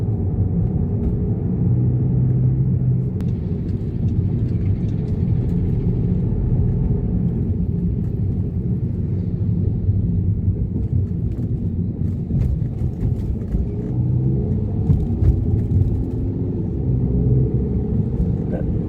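Cabin of a Skoda Superb on a long drive, a steady low road and engine rumble that stays even throughout, with faint voices in the background.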